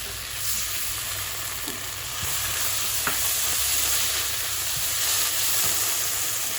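Tomato paste frying in a pan while being cooked for Afghan mantu: a steady, fairly loud sizzle runs throughout, with soft scraping of stirring over it and no talking.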